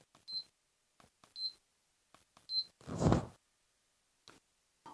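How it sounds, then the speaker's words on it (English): Short electronic beeps from an outdoor ceiling fan's remote control with dimmable light, sounding three times with button clicks, then a brief rustle and a few more faint clicks. "it beeps as you listen"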